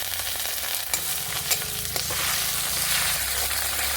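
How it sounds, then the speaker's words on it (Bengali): Garlic, onion and ginger paste fries in a pan for a Bengali-style spicy mutton curry, a dense close sizzle with stirring scrapes and a low bubbling that swells louder toward the end. "এবার দেবো রসুন বাটা পেঁয়াজ বাটা দেবো আদা বাটা"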